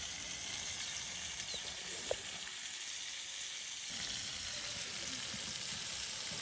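Spiced fish fry crisp in oil outdoors beside a river, a steady quiet sizzle with a single small tap partway through.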